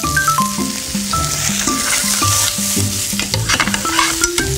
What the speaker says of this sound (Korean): 센 불에서 참치를 살짝 볶아주시다가